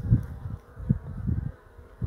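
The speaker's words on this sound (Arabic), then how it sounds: "شوفوا النحل دابا، راه تقريبا 7 مساء والنحل مازال" Honey bees buzz at a beehive entrance in the evening, a close, low droning hum that swells and fades as individual bees pass near, over a steady background buzz.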